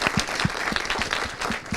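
An audience applauds steadily, many hands clapping in a dense, continuous patter.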